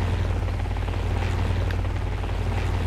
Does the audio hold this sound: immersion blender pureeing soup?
no